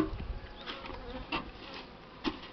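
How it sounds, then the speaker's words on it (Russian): Honey bees buzzing close by, a steady insect hum with a few louder passes as individuals fly near carrying pollen loads, no voices. "О, тоже обножку несут пчелы."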